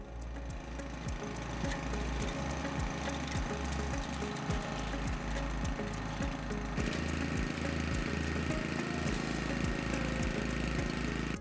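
A Cobra WV580SPL wheeled petrol garden vacuum runs steadily at close range, its small engine giving a continuous buzzing drone with a regular pulsing throb, with no talking.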